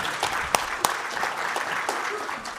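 Scattered audience clapping during a panel discussion on diversity and inclusion, a few distinct sharp claps over soft, sparse applause at moderate distance.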